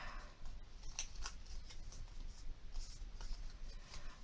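Paper being creased and folded by hand for a craft case, soft rustling and scraping with light taps and brushes, close and quiet throughout.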